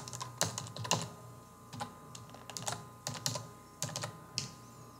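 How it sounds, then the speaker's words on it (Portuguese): Fingers tap out a password on a computer keyboard in a quiet room, a close, irregular run of crisp key clicks in small clusters. "depois de digitar a senha, uso o Tab e vou para a próxima tela"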